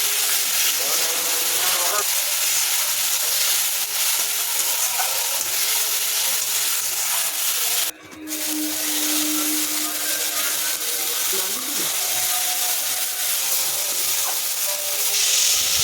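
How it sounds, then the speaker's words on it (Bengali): A spice paste of chilli powder and ground mustard fries in a pan with a loud, steady sizzle that runs for the whole stretch and barely drops, close up and unbroken. "সব কিছু ভালো করে মশলাটা কষিয়ে নেব।"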